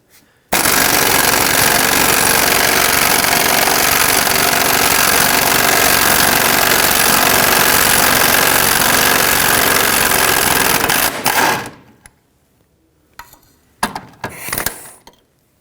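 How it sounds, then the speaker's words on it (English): An impact tool hammers loudly and continuously for about ten seconds, removing the last bolts of a receiver hitch on a 2013-2020 Nissan Pathfinder, then stops, followed by faint metallic clinks of the loosened parts. "take out the last two bolts."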